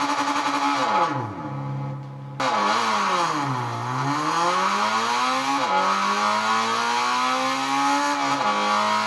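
A car engine in Gran Turismo 6 revs hard to around 9,000 rpm, its pitch sweeping up and down through gear changes, with one brief cut near the start, loud and continuous.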